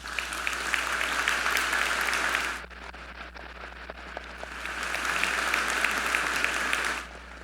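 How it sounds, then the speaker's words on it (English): An audience applauds graduates at a spring convocation ceremony for a faculty of applied health sciences. Two loud, dense bursts of clapping are separated by a quieter stretch of scattered claps, with a constant low hum beneath. "let's give them a heartfelt applause."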